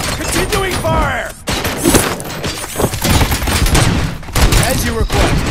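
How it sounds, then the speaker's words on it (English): Dense bursts of gunfire in the RoboCop Rogue City video game, loud rapid volleys and thuds crowding one another nearly nonstop, with a voice calling out between shots. "Continuing fire!"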